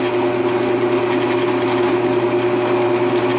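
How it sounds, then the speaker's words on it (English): A deer antler is drilled with a brad point bit, giving a continuous loud motor whine with a steady grinding hum throughout, close and with no talk. "this is about the only thing that I use Brad Point built drill bits for, is for drilling antler."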